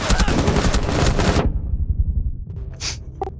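Gunfire in Rainbow Six Siege, a loud continuous automatic burst lasting about a second and a half that stops abruptly, followed by quieter game sounds and a couple of short sharp effects.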